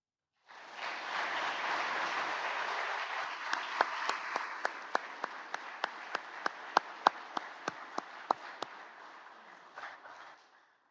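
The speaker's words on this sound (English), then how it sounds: "I ask that you give them a round of applause for the work they have done this year" Applause for faculty and staff fills a hall at a 2022 convocation ceremony. It is distant and sustained, with a few sharp, nearby claps standing out in an uneven rhythm before it fades.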